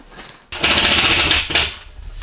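Screw gun driving a screw into drywall, a loud continuous whirring burst lasting about a second, then a shorter second burst, close by with no talking over it.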